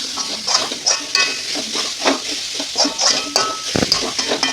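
Vegetable lollipops sizzle in a pan while being stirred close up, with steady frying hiss and repeated scraping and clinking of a utensil.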